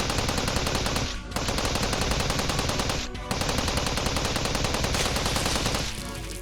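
Sustained rapid machine gunfire in Steins;Gate 0, loud and continuous, with two brief pauses between long bursts.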